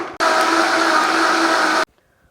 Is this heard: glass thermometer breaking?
no